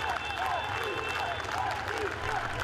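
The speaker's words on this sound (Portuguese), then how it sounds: "Mais palmas e palmas ecoaram lado a lado com os gritos de um povo emocionado" A large crowd applauds continuously at Eusébio's funeral procession in Lisbon's city hall square, with emotional shouts and voices rising through the dense, steady clapping.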